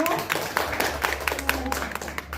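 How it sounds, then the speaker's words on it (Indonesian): Scattered applause from a small group at a school gathering, a few seconds of light clapping mixed with murmuring voices and a steady low hum in the room. "Tepuk tangan dulu."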